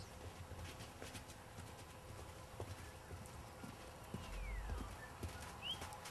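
A horse's hooves clip-clop on the ground during play, a quiet, fairly distant, irregular beat over outdoor background noise with a brief bird call.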